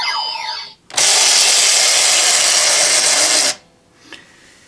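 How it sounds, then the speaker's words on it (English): Toy Genesis Driver henshin belt lever mechanism producing a loud, steady grinding whir lasting about two and a half seconds, preceded by a short electronic chirp and followed by a faint click. "And then you'll get that grinding sound, which is there for the mechanism of the Genesis driver."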